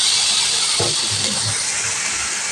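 Water poured into a pan of spices frying with salt, turmeric and chili powder hisses in a steady, loud broadband sizzle that stays constant throughout, with faint clinks beneath.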